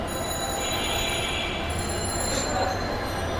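A Dhaka metro rail train runs with a steady rumble and a thin high squeal from the wheels, continuous and moderately loud throughout.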